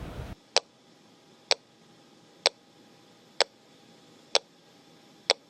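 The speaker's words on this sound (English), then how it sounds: "So this is the pinger right here, and we're just going to play for people the noise it makes." A flight data recorder black box pinger emitting six short, sharp beeps at a steady interval of about one second, evenly spaced and metronome-like against a quiet background.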